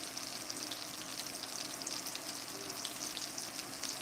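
Steady crackling sizzle of butter frying in a hot pan, continuous and moderately close, with no talking.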